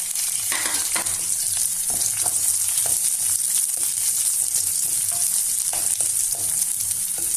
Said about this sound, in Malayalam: പച്ചമുളക് ഇട്ട് കൊടുക്കാം